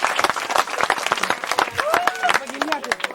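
An audience claps in a loose burst of sharp, scattered hand claps, with voices calling out and chattering over and between them.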